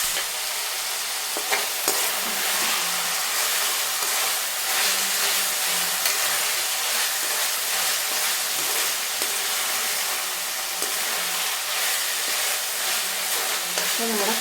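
Prawns and other ingredients fry in hot oil in a Kerala-style home kitchen, giving a steady, close sizzle and crackle that runs throughout, with occasional scrapes of stirring.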